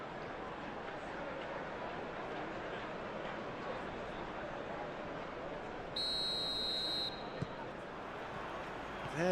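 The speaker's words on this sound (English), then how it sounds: "There's the whistle." A referee's whistle starts a Manchester City vs Copenhagen Champions League match in PES 2021, one sustained shrill blast of about a second rising over a steady, loud stadium crowd roar.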